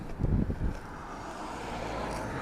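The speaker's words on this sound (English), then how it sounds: "I picked a windy spot, that's for sure." Steady wind buffeting a microphone outdoors in Denbigh, with rumbling low gusts at first that settle into a constant roar.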